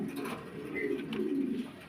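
Soft, low pigeon cooing, a few rolling coos close by and fairly quiet.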